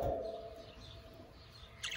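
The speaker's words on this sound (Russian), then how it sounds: "Попугайчиков на улице тоже выставили." Pet budgerigars kept outdoors give faint, distant chirps and short tweets in a quiet yard, with no talking.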